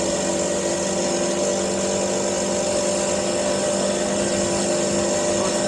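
Puch Maxi 50cc moped engine running in a four-stroke manner gives a loud, continuous buzzing drone, steady and close with no pauses.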